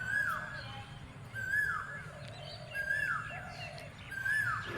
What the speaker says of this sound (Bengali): কোকিল ডাকছে কি সুন্দর।